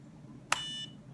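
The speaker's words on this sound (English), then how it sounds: "it gives you the warnings, the beeping" A single short, sharp electronic beep from an Innokin Z Biip all-in-one vape kit, a bright tone that rings briefly and fades in a quiet room.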